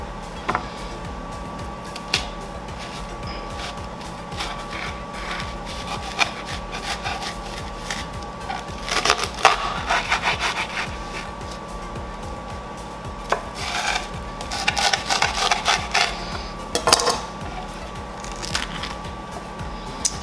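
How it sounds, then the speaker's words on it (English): A knife cutting leeks lengthwise down the center on a cutting board, with soft rubbing and crunching strokes and brief clustered bursts of slicing over a steady background hum, close and moderately quiet. "And then I'm gonna cut down the center"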